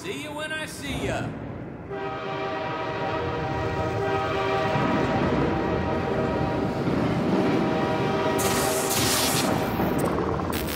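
A train rolls along the tracks in Half-Life 2 Episode 1. A steady tonal whine with layered harmonics rides over a heavy, continuous rumble, and a bright hiss swells near the end.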